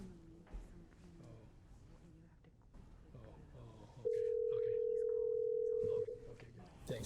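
A steady telephone line tone sounds for about two seconds while a caller is transferred into a county board of supervisors meeting, preceded by talk and background murmur from the chamber.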